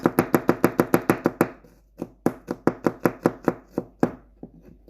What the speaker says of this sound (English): You just cut this edge off here, like so. You don't want that. First slice.